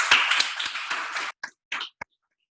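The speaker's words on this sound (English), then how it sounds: "So a big round of applause to them." Applause from a demo day audience at a coding bootcamp event, a short burst of clapping that breaks off abruptly, followed by a few isolated claps and a single final clap.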